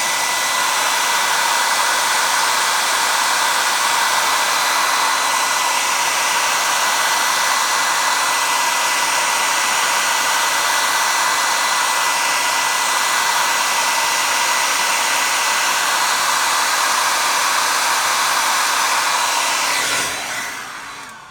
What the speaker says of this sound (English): I hit it with that hairdryer again